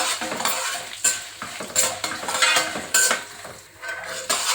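Ten dried red chillies fry in hot oil in a pan for a tomato chutney: a steady, close sizzle broken by several sharp stirring and scraping clatters, with no talking.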